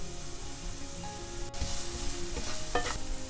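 Finely chopped medium onion and lightly cooked garlic frying in a pan, a steady close sizzle with stirring and scraping strokes throughout, no talking.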